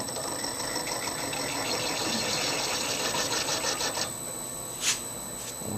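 A Burke Millrite MVN milling machine runs steadily, its motor and cutter giving a continuous mechanical whir with a brief louder knock near the end, close and without talk.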